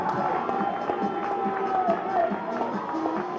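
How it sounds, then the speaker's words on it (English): A big Friday night crowd at a baseball stadium standing and cheering after a win, a broad roar of voices and clapping, at a distance, with a commentator talking over it. "this big Friday night crowd at Burger King Stadium at Ragsdale Field standing and cheering"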